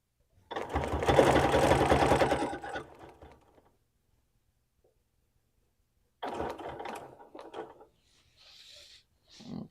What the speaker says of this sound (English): using a nested circle ruler quilting on a sit-down long arm. This is a Bernina Q20.